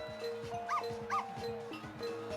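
Dog barks in a video game, two short yelps standing out at moderate loudness over a continuous game backdrop of music and effects.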